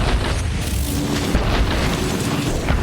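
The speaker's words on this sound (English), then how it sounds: "for my opening volley, oh yeah, bombs" Bomb explosions in the video game Dragon's Dogma: Dark Arisen make a continuous, loud, rumbling roar of overlapping blasts that holds steady for nearly three seconds without a break.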